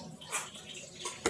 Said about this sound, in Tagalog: Lagyan natin siya ng tubig.